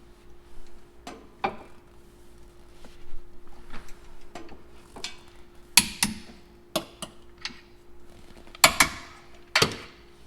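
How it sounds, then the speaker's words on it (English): Torque wrench tightening the two upper 16mm case bolts to 90 foot-pounds during a DIRS install on a Dodge Demon 170, giving a series of sharp clicks and ratchet ticks in irregular bursts with mechanical creaks between them, close up and with no talk. "the 2 upper 16mm case bolts get torqued to 90 foot-pounds"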